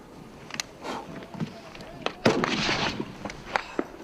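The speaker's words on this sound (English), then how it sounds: "Rocket attack." Rocket attack explosions during fighting with the Taliban, sharp cracks and thuds scattered through a noisy outdoor scene, one heavier blast followed by rumbling, with voices talking nearby.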